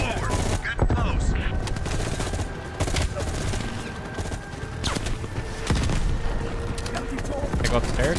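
Gunfire in the Call of Duty: Black Ops Cold War video game, a few loud sharp shot bursts among steady game ambience and rumble, with a player talking over parts of it.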